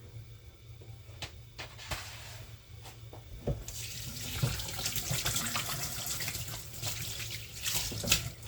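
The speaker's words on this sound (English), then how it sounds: "Just going to wash my hands quickly." A kitchen water tap runs steadily while hands are washed under it, a continuous hiss of flowing water that grows fuller partway through, with faint clinks and splashes at the sink.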